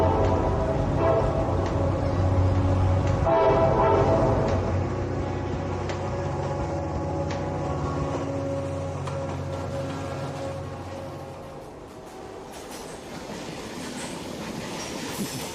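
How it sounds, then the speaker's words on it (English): A train rumbles past near a creek, with a steady heavy roll, rhythmic clickety-clack of the wheels and some metallic squeal, loud at first and then slowly fading, with no talking. "I hear the train coming now"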